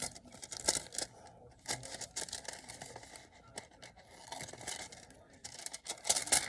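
Scissors trimming paper edges on a card craft project, a series of close, crisp snips and rustles in uneven rhythm at low volume, with no voices.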